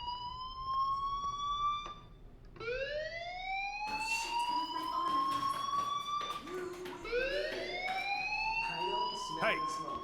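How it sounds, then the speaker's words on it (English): A fire alarm in the video game Life is Strange, a rising electronic whoop that repeats over and over, with a wailing siren-like tone running under it, heard through a steady background. "do you hear that fire alarm?"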